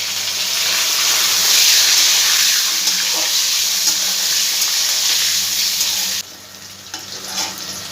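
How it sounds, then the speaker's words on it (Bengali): Potato pieces fry in hot oil in a home kitchen, giving a loud, steady broadband sizzle that runs unbroken for about six seconds, then drops to a quieter crackle with a few light stirring clicks near the end. "তেলটার মধ্যে এবার আমি আলুগুলো দিয়ে একটু ভেজে নেবো।"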